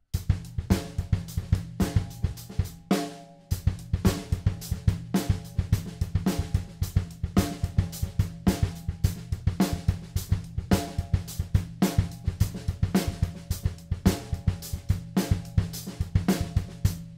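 Recorded drum kit track with a kick drum played at uneven strength, steady beats of kick, snare and cymbals repeating without pause, with a brief dropout near the start.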